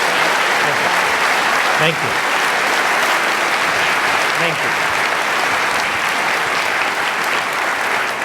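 A large audience at a SECNAV guest lecture applauds Adobe's chairman and CEO with dense, steady clapping that fills the room, while someone says thanks over it.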